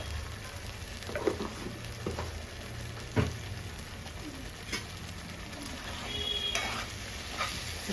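Chili powder being stirred into chicken curry in a pan, a soft continuous sizzle under occasional scraping and clinking strokes of a spoon, fairly quiet and close, with no talking.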